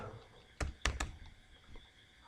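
Computer keyboard typing, a few sharp separate key clicks close by, faint and quiet over low room noise.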